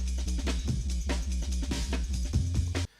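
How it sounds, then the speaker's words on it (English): A drum break chopped into a very fast arpeggiator-style repeating pattern, rapid stuttering hits in a steady rhythm for a few seconds before cutting off abruptly. "This is like some sort of arpeggiator type thing, and it's really fast"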